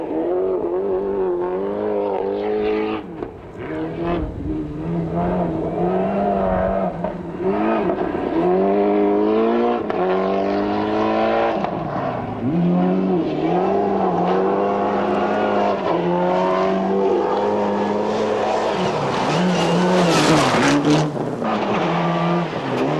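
A two-wheel-drive Skoda Felicia kit car blasts along a Rally New Zealand stage in 1996. Its loud, close engine revs hard, climbing and dropping with repeated gear changes for the whole stretch, with no voices.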